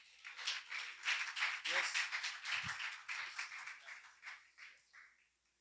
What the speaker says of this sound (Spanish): Le damos un aplauso al Señor de gloria a Dios.